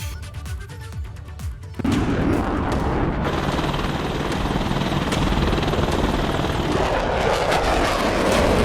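Military aircraft roar overhead at an Indian air show, starting with a softer rumble before a loud engine blast surges in and holds as a sustained, powerful roar to the end.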